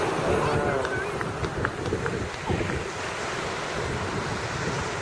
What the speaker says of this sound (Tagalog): So, medyo maalon. Malakas yung wave.